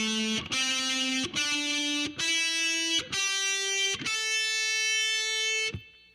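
A heavily distorted electric guitar plays six sustained notes in a row, each struck cleanly and ringing with buzzy, overdriven tone and brief gaps between picks, the last note cut off abruptly.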